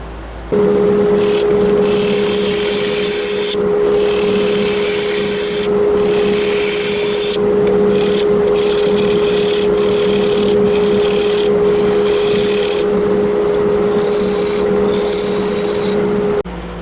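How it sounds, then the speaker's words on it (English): Wood lathe spinning a black walnut salad bowl while a gouge digs into its outer edge, giving a steady loud hum with a constant tone and rough, intermittent scraping cuts throughout. "So I'm trying to dig out this outer edge to take less weight on the outside of the bowl"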